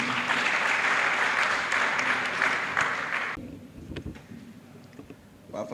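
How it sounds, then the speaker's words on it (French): Audience applause welcoming a speaker at a university opening ceremony: dense, loud clapping for about three seconds that cuts off abruptly, followed by scattered claps and faint room noise. "je vous invite s'il vous plaît à accueillir avec un tonnerre d'applaudissements"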